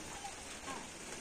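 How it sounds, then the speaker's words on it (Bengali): Light rain falling on a cloudy morning outdoors, a faint, steady patter with no voices. "মেঘলা মেঘলা, সকাল থেকে হালকা বৃষ্টি"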